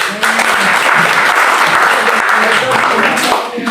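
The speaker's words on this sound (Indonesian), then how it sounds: "Tepuk tangan yang keras." A church congregation at a prayer service in Jakarta applauds loudly, a dense, close roar of clapping that sustains at full strength with some voices and cheers running through it.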